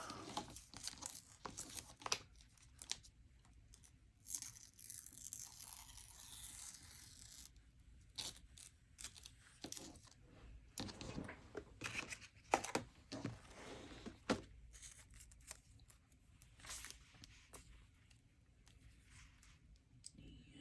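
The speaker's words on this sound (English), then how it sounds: "We're going to rip this down the middle." A Sterling Ink Common Planner paper page being ripped down the middle, giving several soft, close tearing and crinkling bursts at low volume with quiet pauses between them.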